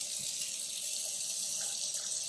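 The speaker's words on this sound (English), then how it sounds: "when I turn the water on," A kitchen faucet runs in a steady, close hiss of water pouring into a sink, with no talking and no change in flow.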